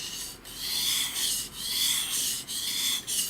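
A Japanese santoku knife is drawn across a whetstone in steady, rhythmic rasping strokes, loud and close, with brief pauses between passes. No one speaks.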